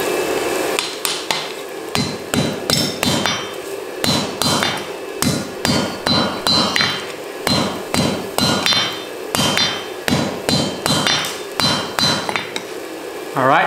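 Hammer blows fall on rebar being forge welded into blacksmith tongs with borax flux, sharp metallic strikes landing in a steady, regular rhythm, close and loud with no talking.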